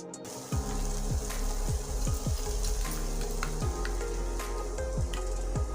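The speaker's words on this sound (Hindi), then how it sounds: "बहुत अच्छी तरह से मेरी मसाले फ्राई हो गई है और देखिए चारों तरफ से इसने तेल छोड़ दी है।" Spice masala fries in oil for paneer do pyaza, giving a continuous crackling sizzle with repeated sharp pops and spatters over a steady frying hiss, close and fairly loud.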